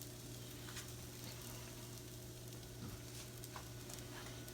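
French toast cooking on a griddle that has been switched off, a quiet, steady sizzle with faint crackles and a low hum underneath.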